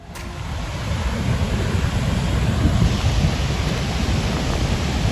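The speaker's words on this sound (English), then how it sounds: "Grand Falls is actually the biggest waterfall in Missouri by volume, the widest." Grand Falls in Joplin, Missouri, a wide high-volume waterfall, pours in a steady, dense, loud roar of rushing water heard close, with no voices over it.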